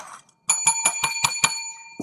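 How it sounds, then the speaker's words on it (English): A bicycle bell rings six times in quick, even succession, bright and close, after a short silence. "Where's my bell?"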